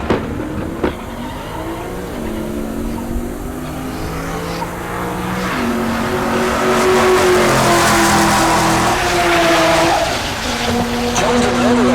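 Two drag-racing cars, a Lexus and a Nova, launch at Heartland Park Topeka and roar down the strip, the loud rising engine note building and holding as the pass goes on, with a track announcer talking over it.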